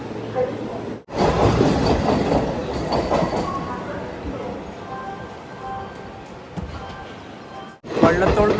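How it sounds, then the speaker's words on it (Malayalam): The Jan Shatabdi Express pulls into platform 2 at Thrissur railway station, a loud, sustained rumble of wheels and carriages with squealing and clanking, mixed with station voices, briefly cut by silent gaps. "തൃശ്ശൂരിലെ 2-ാം നമ്പർ പ്ലാറ്റ്ഫോമിലേക്കാണ് ട്രെയിൻ വരുന്നത്."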